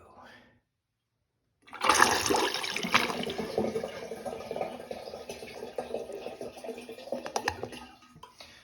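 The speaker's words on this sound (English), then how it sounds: "the total flush overall is still just a bit sluggish" A newly installed wall-mounted toilet with a mid-tank setup flushes, with a sudden rushing surge of water after a short silence, then a long gurgling drain that slowly tapers off, heard up close.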